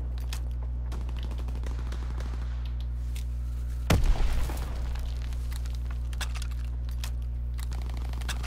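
An enemy bomb bursts in a WW2 shooter game, one heavy explosion midway through over a steady low engine drone with scattered distant pops before and after.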